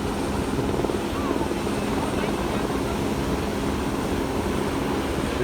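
A helicopter passes over Leblon, its dense rotor and engine roar loud and continuous throughout, with broadband wash and no pause.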